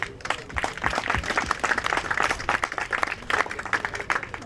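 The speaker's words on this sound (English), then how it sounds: "Give yourselves a round of applause" Crowd applause breaks out at a Laborfest labor rally in Racine/Kenosha, Wisconsin, many hands clapping in a lively, uneven patter that stays steady and moderately loud for several seconds.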